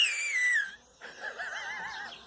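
A voice imitates a hawk's cry, a high descending screech followed by a wavering whistled call, close and brief.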